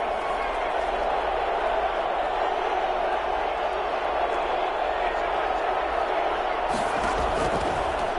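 Stadium crowd noise from a Madden football video game, a steady, loud roar of many voices filling the whole stretch with little variation, with a brief burst of added noise near the end.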